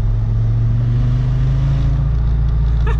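A loud, steady VR5 engine drone with a deep throbbing low note, in a car with solid mounts, held at constant revs and heard up close for a few seconds.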